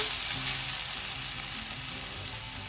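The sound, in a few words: stirring beef masala frying in a pan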